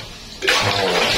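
Water surges into a clogged toilet bowl, a loud rushing flush beginning abruptly partway through and continuing steadily to the end, close up.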